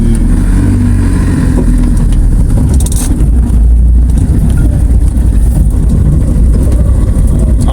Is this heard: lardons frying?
no